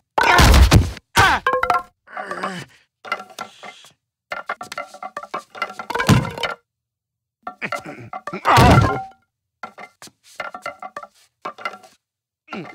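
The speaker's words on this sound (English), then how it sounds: "what better way to show you I'm serious than to smash a desk with a baseball bat?" A desk in a Family Guy cartoon scene is smashed with a baseball bat: a series of loud, close wooden whacks and crashing thunks in irregular bursts, separated by short pauses.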